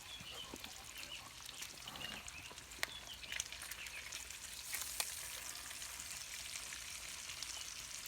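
An egg fries in bacon grease in a Lodge cast iron skillet, giving a steady, fairly faint sizzle with small crackles and pops throughout and no talking.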